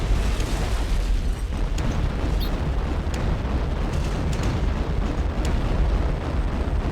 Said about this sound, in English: Mi-17 just pounding it with rockets